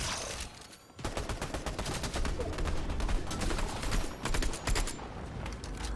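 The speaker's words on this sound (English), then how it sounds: "A gun now is shooting on its own." Automatic gunfire in Fortnite, a rapid continuous stream of loud sharp shots firing by itself after a brief quiet start, relentless and close with a momentary dip partway through.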